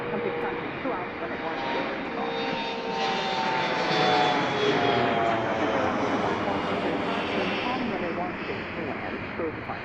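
A plane landing at Washington Reagan National Airport roars steadily and loudly for the whole stretch, with a sustained engine whine. A person talks over it.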